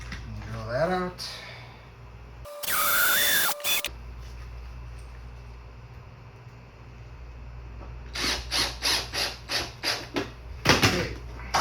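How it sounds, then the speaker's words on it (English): A handheld power drill bores holes in a homemade chicken feeder, heard as a quick run of short, close whirring bursts near the end, with scattered clicks and handling noise before it. "drill that out."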